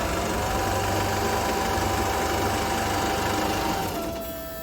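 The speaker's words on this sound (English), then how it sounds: "I feel like the fuel pump in the fuel tank is a little bit noisy. It makes a bit of a whining sound." Steady whine and hum from the in-tank fuel pump of a GWM Cannon ute, a continuous mechanical drone with engine-like vibration, dropping and thinning toward the end.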